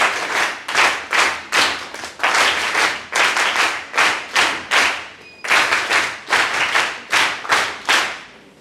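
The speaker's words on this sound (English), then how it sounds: "let us welcome ma'am with your NSS clap" A seminar audience delivers a rhythmic group clap to welcome a speaker, loud synchronized claps in regular bursts of a few beats each, repeating steadily with a brief pause partway.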